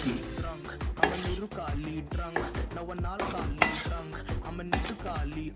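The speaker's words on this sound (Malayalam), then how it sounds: "ഇപ്പം ഇതും നമ്മൾ അതിലിട്ടാണ് മിക്സ് ചെയ്യാൻ പോവാണ്" Spicy noodles tossed and mixed in a pan, with rhythmic loud clanks and scrapes of a metal spatula against the pan, close up and dense, with no talk.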